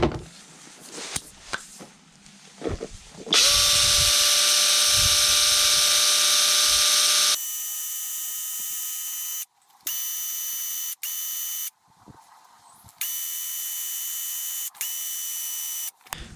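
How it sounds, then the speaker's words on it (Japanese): Pole-mounted Kebtek chainsaw running its chain briefly to check bar oil flow, a loud high-pitched electric motor whine in several bursts with short stops between, after some handling clatter. "まず一回チェーンを回して、チェーンソーオイルがちゃんとね、出るかね、それを確認します"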